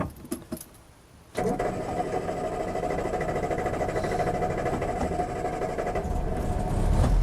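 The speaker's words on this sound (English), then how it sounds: "Takes a little while to start when it's hot. Bit of churning there, but we're there now." A hot 1972 Land Rover Series 3 short-wheelbase station wagon engine cranks with a few brief churns and then catches, settling into a close, steady rough idle that grows slightly louder.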